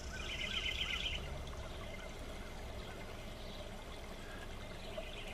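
A creek runs over stones through small rapids, giving a soft, steady wash of flowing water that stays quiet and continuous throughout, with no talking.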